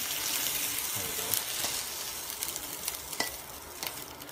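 Beef stir-frying in a pan for a Chinese beef stir fry gives a steady, soft sizzle with scattered clinks and scrapes of stirring, close by and without talk.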